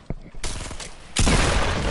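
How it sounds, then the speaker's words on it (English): Gunfire in Fortnite Battle Royale: a sharp shot, then a burst of rapid close shots, ending in a loud, sustained roar of heavy fire. "Don't you start shooting at me now."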